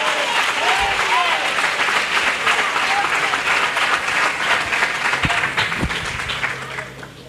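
A church congregation applauding after a sermon, a loud sustained wash of clapping from a crowd that fades toward the end, with a voice speaking over it.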